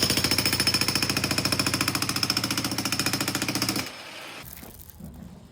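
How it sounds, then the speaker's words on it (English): Loud, rapid hammering of a jackhammer breaking up an old concrete floor in an old house under restoration, a steady percussive burst for about four seconds before it stops and leaves quieter room noise. "breaking up the floor. So we're going to get this concrete floor out"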